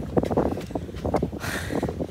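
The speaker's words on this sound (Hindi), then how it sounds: "बहुत तेज हवा हो गई है" Strong wind gusting on an Assateague Island beach, buffeting the microphone with rough rumbling bursts and a hissing gust near the end.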